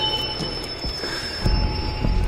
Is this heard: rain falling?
no